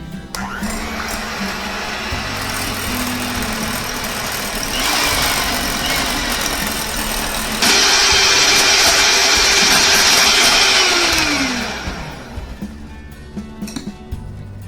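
An electric mixer whips cream for a German strawberry chocolate roll with a loud, continuous motor whine. Its pitch and intensity step up midway, hold steady for several seconds, then wind down near the end.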